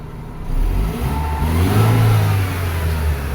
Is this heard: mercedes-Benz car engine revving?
yes